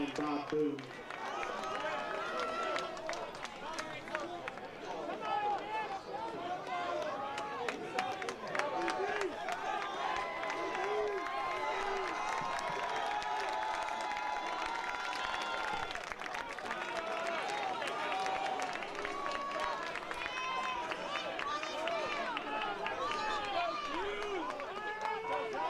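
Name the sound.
crowd cheering at a men's lacrosse game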